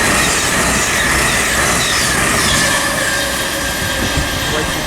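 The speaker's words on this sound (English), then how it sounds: "passing through now is a service from Holyhead to London Euston for Virgin Trains" A Virgin Trains Class 221 Super Voyager on a Holyhead to London Euston service passes through Watford Junction on the West Coast Main Line, a loud, steady, close roar of wheels and engine with high squeal.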